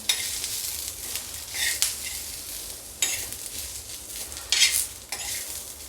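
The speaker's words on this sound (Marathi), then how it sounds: "एक चमचा तेळ टाकणार सगळ्यांना चांगल्याने आपण परतवून घेऊया" Vegetables sautéing in a spoonful of oil, with a soft sizzle beneath intermittent bursts of spoon scraping and stirring against the pan, a few seconds apart, over a low background hum.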